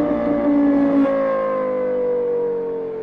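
Lexus LFA V10 engine holding a loud, steady high rev with a bright harmonic wail that slowly falls in pitch over three seconds, close and alone with no talk.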